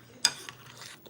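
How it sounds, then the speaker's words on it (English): A spoon stirs hot oatmeal in a pot, with one sharp clink against the side followed by soft scraping and a faint second tap. "You guys make sure you stir your oatmeal."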